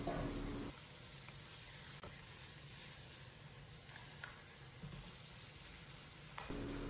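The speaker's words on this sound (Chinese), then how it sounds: "鱼骨稍微煎一下。" Fish head and bones fry in a wok with chilli paste and hot pot base, a steady quiet sizzle with a few sharp clicks from the pan and no talking.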